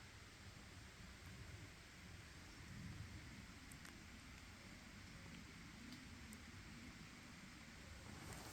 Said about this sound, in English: until the raindrops start dripping through the branches